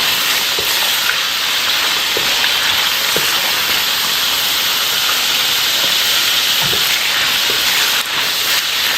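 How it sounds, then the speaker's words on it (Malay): Chicken pieces frying in hot oil, a loud, continuous sizzle and hiss close up, with a few faint taps of a utensil and no talking. "Kita akan goreng dahulu ayam ni sampai dia paruh masak sedikit ya."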